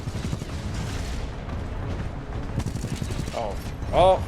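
Weapons fire in the Titanfall 2 shooter game, dense crackling bursts under a rumbling battle backdrop, with a voice speaking and a short electronic tone near the end.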